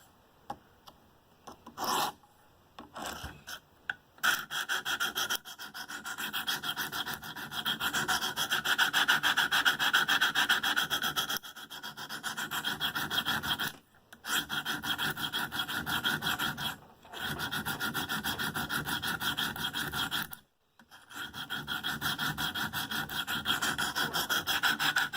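A Spyderco Manix M4 knife blade is drawn across KME sharpening stones in a steady run of close, rasping strokes, broken by a few short pauses, with no talking.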